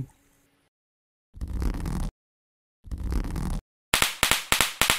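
An animated watusi firecracker is rubbed on cement, giving two sustained hissing scrapes with pauses between them, then a fast series of sharp crackling pops.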